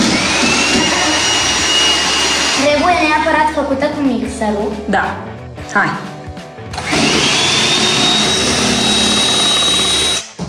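A whirring electric hand mixer beats a mascarpone cream steadily, drops out briefly while people talk, then starts up again at full buzz.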